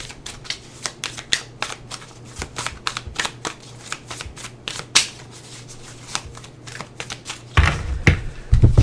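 A deck of Love is Love cards shuffled by hand, with a rapid string of crisp riffling clicks and snaps, close and fairly loud, ending in a louder, denser burst of shuffling.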